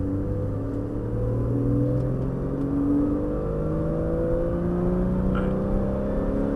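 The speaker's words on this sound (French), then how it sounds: "Allez, tu peux accélérer." Porsche 911 accelerating in third gear on a race circuit, heard from inside the car as a steady engine drone whose pitch climbs smoothly and continuously, loud and close with no talk.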